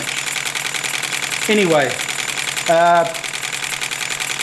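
Three small oscillating steam engines running in series on about 25 psi make a steady rapid mechanical chugging, close and continuous, while someone briefly speaks over it twice.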